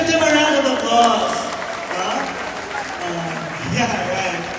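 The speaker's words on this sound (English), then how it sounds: "let's give them a round of applause." An audience applauds children of an orchestra at a final concert, a dense clapping that swells and fades slightly across a few seconds, with a voice speaking over it.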